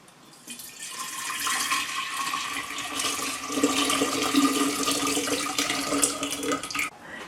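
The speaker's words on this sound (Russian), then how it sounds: "А я сейчас просто доливаю до того же уровня прохладной водой" Cool tap water pours steadily into a glass jar while topping up a kombucha sugar-tea solution, a continuous close splashing and filling sound with no talk.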